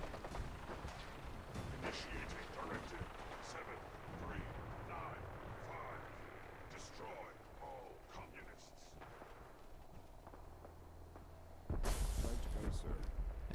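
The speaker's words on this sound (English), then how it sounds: "and you'll watch Liberty Prime destroy the Pridwin." In Fallout 4, the giant robot Liberty Prime destroys the Prydwen airship with heavy booming blasts and rattling gunfire, then a loud roaring burst of explosion near the end.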